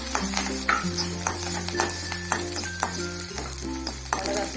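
Ingredients for sundal sizzle and fry in a pan, a steady soft crackle with scattered stirring clinks and scrapes, fairly quiet and close with no talking.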